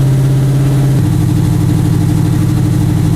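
A car engine idling after a cold start, loud and close, with a steady low drone that drops in pitch after about a second and settles into an even idle.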